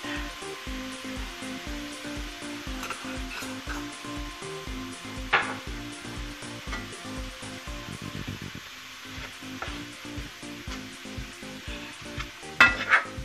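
Meat seasoned with cumin browns in a pan for keto nachos, giving a steady close sizzle with a rhythmic pulsing texture, brief scrapes and a couple of louder clanks near the end, no talk.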